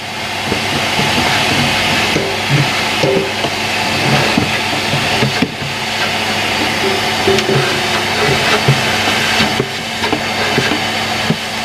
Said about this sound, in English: Then a final vacuum of the upper part of the background.